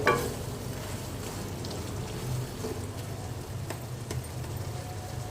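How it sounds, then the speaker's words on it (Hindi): Mutton mince with peas and potatoes sizzles steadily in a pan, a soft, continuous frying crackle with occasional stirring scrapes. "अब इसको ज़रा सा फ्राई और कर लेते हैं।"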